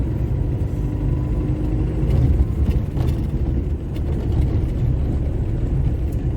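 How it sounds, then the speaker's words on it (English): Road traffic crawls through a traffic jam in the community of White Horses, a dense wash of engine rumble and passing vehicles, with no talking. "we observe traffic jam at this point as traffic to my right moves smoothly"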